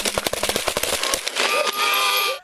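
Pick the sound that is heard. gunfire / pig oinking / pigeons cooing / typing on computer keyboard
gunfire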